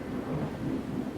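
Heavy rain in a thunderstorm on a dreadful night, a dense continuous roar with low rumbling, steady and fairly loud with no voices.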